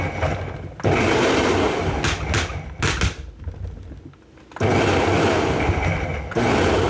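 Countertop blender pulsing jalapeño and other roughly chopped ingredients for Peruvian aji verde sauce, loud whirring bursts separated by short pauses and a few clicking knocks from the base rattling against the table.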